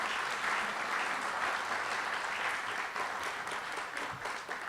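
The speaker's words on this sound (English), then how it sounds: "Let's give everybody a round of applause." An audience at a Minneapolis entrepreneurs' club event gives a round of applause, steady dense clapping filling the room for several seconds before thinning slightly at the end.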